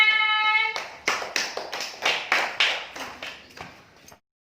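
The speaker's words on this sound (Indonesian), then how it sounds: "Oke, tepuk tangan" After a short ringing tone, a school class claps hands together in unison, about nine evenly spaced, sharp claps in a brisk rhythm, then stops into silence.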